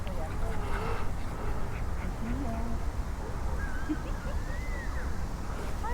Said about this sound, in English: Typical mallard.